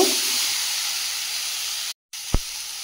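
Pumpkin curry with fried soya chunks being sautéed in a pan, heard as a steady, close hissing sizzle that drops out briefly, followed by a short knock.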